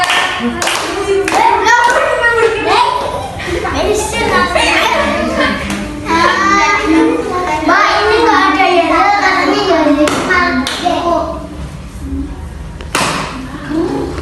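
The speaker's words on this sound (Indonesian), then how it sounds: "tepuk jari 2, tepuk jari 3, tepuk jari 4, tepuk jari 5, tepuk jari 3." Children in a classroom motivational session play a counting finger-clapping game, chanting together while sharp, scattered claps ring out; loud group voices dominate throughout.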